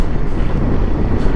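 Wind rushing past a microphone during a motorcycle ride on the road to Ladakh, a continuous low buffeting roar that is loud and close, with no voices.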